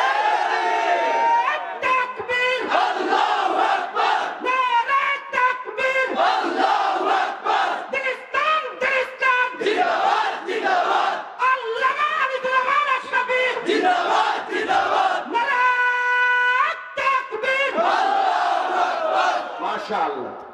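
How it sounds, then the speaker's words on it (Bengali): A large crowd at an Islamic sermon gathering chants religious slogans such as takbir in loud, rhythmic unison, voices rising and falling in repeated call-and-response bursts that fill the whole stretch. "তোমরা 1 মিনিট স্লোগান দাও,"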